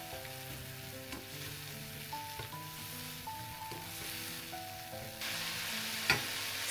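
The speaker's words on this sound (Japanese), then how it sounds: "水分がなくなるまで煮詰めましょう" Soy sauce mixture simmering down in a pan, a steady low sizzle and bubbling that runs throughout at moderate level, with a few soft clinks and a sharper tap near the end, no voices.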